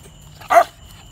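A rescued pit bull gives a single short, hoarse bark, close by against a quiet background.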